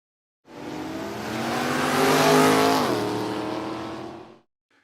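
A nitro-fuelled drag car hot rod engine roars loud and close for about four seconds, rising in pitch and then settling, with no talking.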